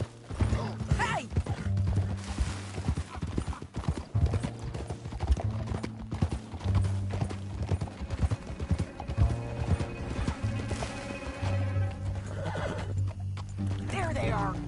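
Horse hooves clip-clop at a gallop amid a Red Dead Redemption 2 ride, steady and close, with a horse whinnying and a game music bed underneath; speech is also present.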